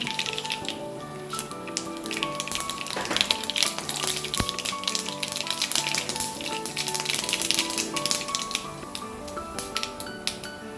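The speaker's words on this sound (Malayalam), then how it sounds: "അപ്പോൾ നല്ലെണ്ണ ചൂടായിട്ടുണ്ട് ഞാൻ കുറച്ച് കടുക് ഇട്ട് കൊടുക്കുകയാണ്" Mustard seeds pop and splutter in hot sesame oil in a pan, a dense, irregular crackle of small sharp taps continuing throughout over soft background tones.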